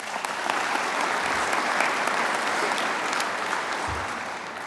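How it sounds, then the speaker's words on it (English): An audience applauds honoring Mike Redford, photographer, editor and program director at WDCQ-TV, at an awards event; dense, steady clapping from many people fills the room, swelling slightly mid-way and tapering off. "so I think he deserves a round of applause"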